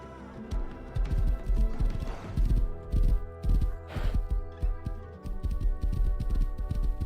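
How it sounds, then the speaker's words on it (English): Horse hooves galloping in the survival game Rust, a rapid rhythmic clip-clop of heavy thuds in repeated bursts, fairly close and loud, with no talk over them. "There's another one on a horse."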